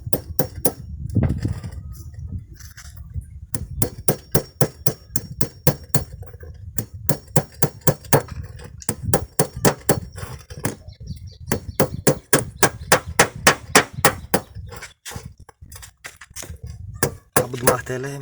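Metal hammer striking an old tyre being shaped into a salt trough for cattle, a long run of sharp, evenly spaced knocks and clinks, close and fairly loud, with brief pauses between bursts.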